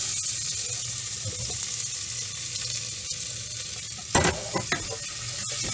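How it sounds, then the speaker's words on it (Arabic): Vegetables sautéing in a pan while being stirred, a steady close sizzle with a few scraping stirs and clatters near the end. "غادي نبداو كنفوق هاد الخضرة ديالكم"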